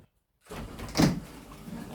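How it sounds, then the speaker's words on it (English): A garage door at a home workshop opens after a moment of silence, with a rising rumbling rattle that peaks briefly and then continues steadily. "And open garage door."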